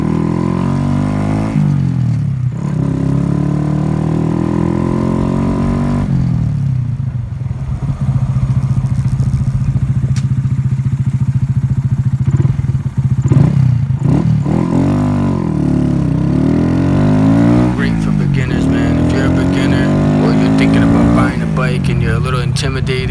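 A Honda Grom motorcycle rides downtown, its small engine revving up and down through repeated rising and falling runs, loud and close, with a brief lull mid-ride.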